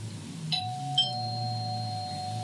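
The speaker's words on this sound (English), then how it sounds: "this ding dong means that we are starting an exercise" A two-tone ding-dong chime, like a doorbell, rings out clearly once, its bright tones lingering and ringing on alone against a quiet background, marking the start of an exercise.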